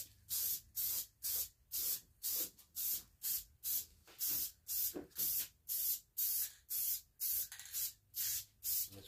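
A 1940s Motorola table radio being spray painted in short, regular bursts of hissing aerosol, about seventeen even pulses with brief gaps between them, close and loud, with no talking.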